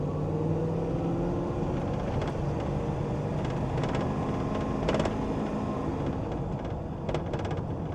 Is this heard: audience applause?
no